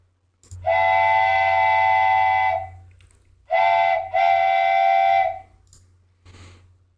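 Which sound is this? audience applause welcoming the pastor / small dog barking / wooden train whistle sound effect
wooden train whistle sound effect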